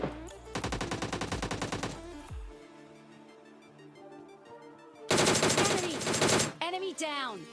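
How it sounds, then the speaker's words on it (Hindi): Rapid automatic gunfire bursts in a battle royale shooter, with a dense stream of shots, a quieter stretch with distant ambient game sound, then another loud close burst and trailing sweeping effects. "और अब जरा इस वाले गन शॉट्स की आवाज़ सुनना।"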